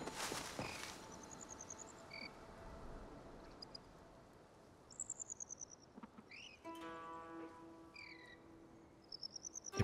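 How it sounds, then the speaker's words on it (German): Cricket chirping in the Palia video game, short high chirps recurring across a quiet night ambience, joined by a few louder trilling bursts and soft footstep-like rustles, with no talking. "Eine Grille gehört."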